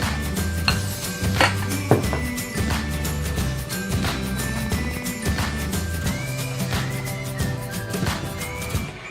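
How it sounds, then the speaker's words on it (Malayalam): A spoon or whisk scraping and knocking against a bowl while powder is mixed into eggless orange cake batter, a close, busy run of irregular clinks and scrapes with no talking. "അപ്പോൾ ഇനി നമുക്ക് ലാസ്റ്റ് ഇതിൽ ബാക്കിയുള്ള ഈ പൗഡറും കൂടെ നമുക്ക് ഇതിലേക്ക് മിക്സ് ചെയ്തെടുക്കാം."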